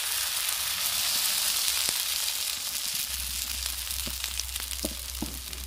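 Chakli pitha batter cooks on a hot tawa griddle, giving a steady soft sizzle and faint crackle throughout, with a low hum in the background.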